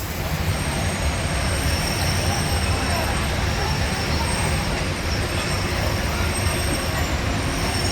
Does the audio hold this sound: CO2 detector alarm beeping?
no